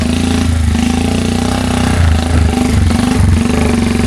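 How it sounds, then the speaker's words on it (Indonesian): Two off-road motorcycles ride through a slippery forest track, their engines droning loud and steady with repeated revving surges in the second half. "kebetulan kita menggunakan 2 motor off-road sekaligus"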